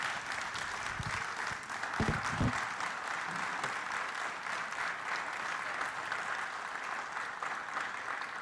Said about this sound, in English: So please give Fire Marshal Heath, Juan, and Chief a round of applause